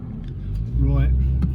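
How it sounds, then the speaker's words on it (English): A Jeep drives past outside during a road test of a Ford Focus Mk2, its engine rumble swelling for about a second and then fading. "There's a nice Jeep going by."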